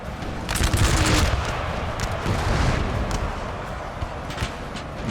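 Troops firing a musket volley in the Napoleon: Total War video game, a ragged burst of overlapping gunshots and booms that rolls on under continuous battle noise, loud and dense before easing off.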